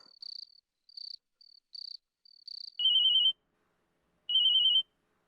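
An electronic phone ringtone: a series of short high chirps followed by two longer buzzing rings, clear and close with silence between.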